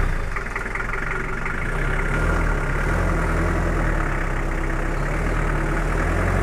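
A Toyota Kijang Super car engine idles steadily while warming up, a continuous low rumble at constant loudness with no talking.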